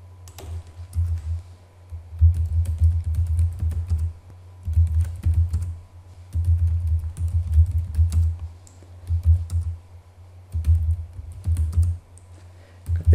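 Commands are typed on a computer keyboard while configuring network switches, with irregular bursts of close, muffled key taps separated by brief pauses.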